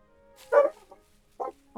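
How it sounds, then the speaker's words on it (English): A dog in the video game Spirit of the Island gives two short, close barks about a second apart, with a brief whimpering note between them. "Oh my goodness. We're barking today."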